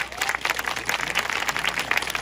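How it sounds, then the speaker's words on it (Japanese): Applause from an audience for children's taiko drum performers at a local community event in Matsushiro, a steady wash of clapping at moderate volume throughout. "もう一回盛大に拍手をお願いします"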